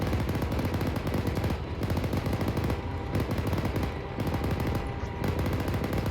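A tank's coaxial machine gun firing during gunnery training against infantry, sustained rapid automatic bursts that rattle on almost without pause, with brief gaps between strings of fire.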